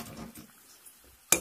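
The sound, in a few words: Maggi noodles being put into a kadai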